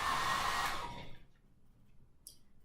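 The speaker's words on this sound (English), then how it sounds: "Then you're going to turn on the hairdryer to the proper setting." A handheld hair dryer blowing loudly and steadily up close, then quickly winding down to near silence.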